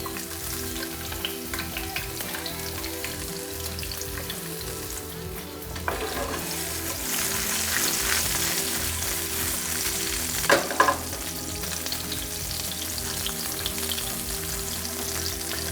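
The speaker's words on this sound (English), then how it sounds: "So, in with the garlic. You can hear just by the sound," Garlic going into a hot pan for a pork loin and Chinese noodle dish gives a steady, moderate sizzle and crackle, with a few louder stirring rustles partway through and no voices.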